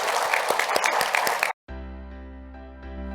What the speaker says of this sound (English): let's give everyone who participated virtually and with us today a round of applause